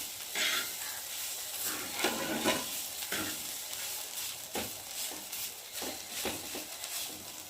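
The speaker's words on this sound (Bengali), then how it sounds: "গাজরটা ভাজা হয়ে এসেছে।" Grated carrot fries and is stirred in a pan for carrot halwa: a steady close sizzle with repeated scraping strokes of the spoon against the pan, and no talking.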